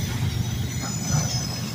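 A heavy SD40 diesel locomotive of CSX rumbles steadily past close by, its deep low engine drone constant throughout, with faint rail noise above.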